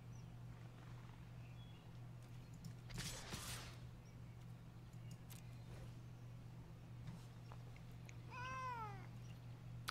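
A house cat meows in a short run of rising and falling calls near the end, fairly clear over a steady low electrical hum, after an earlier brief burst of noise.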